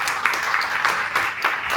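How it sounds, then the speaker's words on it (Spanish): Short burst of audience applause at a business talk show, steady dense clapping filling under two seconds at moderate loudness. "Muchas gracias, un aplauso para ellos dos"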